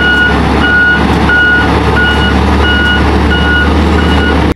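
Dump truck reversing, its backup alarm beeping in a steady, evenly spaced rhythm over a loud, constant engine rumble, close by.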